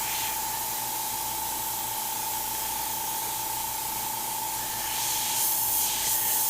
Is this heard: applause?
no